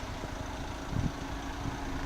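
A Caterpillar 315BL excavator idles steadily, its engine a low continuous rumble with a faint tonal hum, no voices over it.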